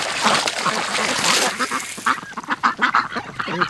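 Ducks and geese at a lake, with a male duck swimming and splashing as it cleans itself; close splashes and wet flapping give way to a run of loud, rhythmic honks and quacks toward the end.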